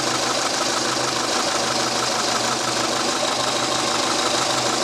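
A 2007 Peugeot 207 1.4 petrol 16-valve engine with a blown head gasket idles steadily with a low, even rumble and slight knocking, continuous and fairly close, with no voices.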